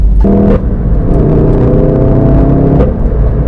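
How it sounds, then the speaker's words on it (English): A VW Golf GTI Clubsport S is heard loud and close on the overrun, its engine note falling away while exhaust crackles and pops sputter through the steady rumble. "you get pops and crackles on the overrun, and kind of like all sorts of times, really, that sound like a rally car"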